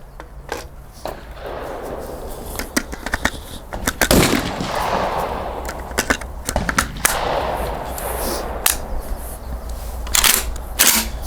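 Several loud, sharp gunshot blasts from a nearby Saiga-12 shotgun firing combination slug-and-buckshot rounds, spaced irregularly, each with a booming echo trailing off, with clicks and handling noise between shots.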